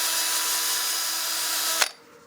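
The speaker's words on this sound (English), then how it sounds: "I find it a little bit easier to do and maintain my shape with a drill" Handheld drill spinning a sanding attachment against wood on a lathe, a steady high whine that cuts off abruptly near the end.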